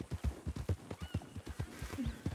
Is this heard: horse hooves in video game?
yes